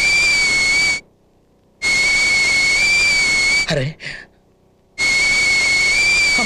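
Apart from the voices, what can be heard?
pressure cooker whistle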